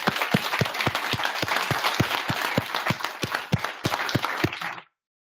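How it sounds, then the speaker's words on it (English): A room of event attendees claps in a round of applause for the panel speakers at the close of a tech and sustainable clothing community event, steady dense clapping for about five seconds before stopping abruptly. "quick round of applause for the guys for fielding that"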